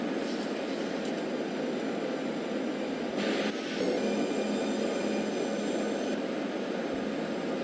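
An American Airlines airliner on final approach into Los Angeles, flaps extended: a steady, loud cabin roar of engines and rushing air holding constant throughout, with faint tonal whine above it.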